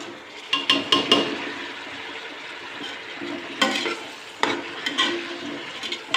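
Vegetables stirred and frying in a pan for a sprouted-bean upma, a soft sizzle running under sharp clinks and scrapes of a spoon in irregular bursts.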